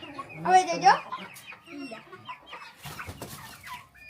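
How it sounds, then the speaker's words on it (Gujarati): A newly arrived rooster squawks and clucks loudly at first while being attacked by another rooster, then scattered quieter clucks and scuffling follow in a quiet outdoor setting. "તો હવે આ બીજો નવો કુકડો છે"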